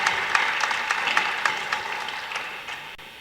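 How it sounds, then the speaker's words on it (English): An audience claps at a student climate-justice event about going fossil free, with brisk applause that starts loud and gradually thins and fades toward the end. "Clap real loud for Zeph."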